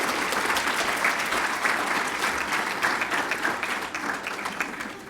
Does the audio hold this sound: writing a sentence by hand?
no